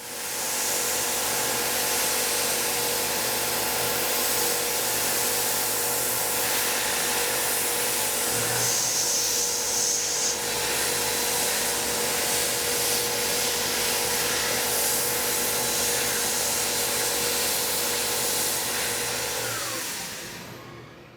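A CNC machine runs a final contour pass with a 1/8 inch end mill, a steady loud broadband whir of spindle and cutting that holds for about twenty seconds before winding down at the end.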